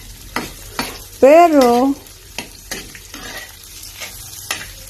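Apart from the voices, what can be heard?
stirring sautéed garlic and onion in a pan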